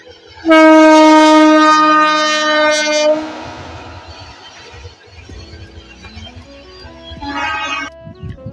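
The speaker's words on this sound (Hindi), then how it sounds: "और ये ट्रेन निकल रही है, ये देखिए।" A train passes near trees, opening with a loud, sustained horn blast and then a fading rumble with rail clatter, followed by a shorter swell of noise.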